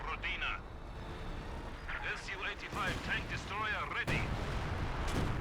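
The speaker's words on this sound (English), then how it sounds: "The barrage of the left 18 is in this general region." Deep booms from a leFH 18 artillery barrage in Company of Heroes, heavy rumbling impacts spread over several seconds with one sharp crack near the end, while someone speaks over them.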